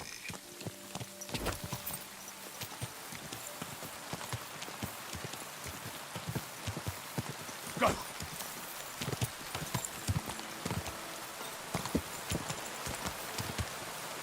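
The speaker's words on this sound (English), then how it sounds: "There's my horse." A horse gallops in the video game Kingdom Come: Deliverance II, with steady rapid hoofbeats, rain on the surface, and a brief shout over the clip-clop.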